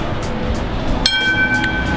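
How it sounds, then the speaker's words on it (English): A Melbourne tram rolls along with a steady low rumble of wheels and motor. A sharp metallic ring or squeal cuts in midway and lingers faintly. "why don't we hop on a tram and head over there right now"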